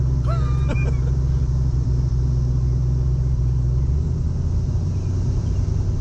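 A 1966 Mustang drives along with a steady, loud low engine rumble that shifts in tone near the end, as if dropping out of gear; a brief voice-like sound appears early on.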